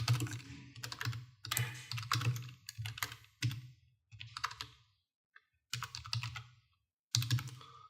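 Quick computer keyboard typing in bursts, a string of close, crisp key clicks broken by short pauses, with no talk over it.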